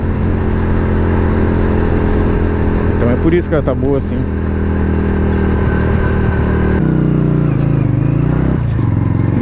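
A motorcycle riding along highway RS239 in Rio Grande do Sul, its engine droning steadily and loud with wind noise and a brief rising rev, while someone talks over it.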